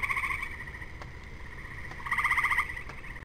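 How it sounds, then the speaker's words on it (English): Tree frogs calling in the evening in Indiana woods, a steady pulsing trill of overlapping calls that swells louder near the end, moderately distant with no talking. "Tree frogs, I think."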